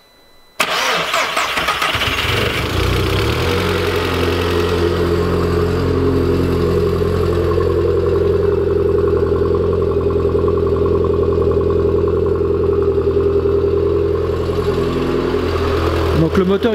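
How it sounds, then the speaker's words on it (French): Engine idling with its exhaust fitted, starting up and then running steadily, with a light rhythmic valve ticking from neutral, unprimed lifters under the low, continuous drone. "Donc le moteur il clacote un peu, c'est normal, les pousseurs sont neutres et pas amorcés"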